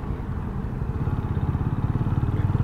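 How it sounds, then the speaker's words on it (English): A Benelli Imperiale 400 motorcycle engine runs nearby with a steady low thumping pulse that grows more regular and pronounced toward the end, alone without talk. "Yeah, the Benelli Imperiale 400. Not too bad for this price and for the power."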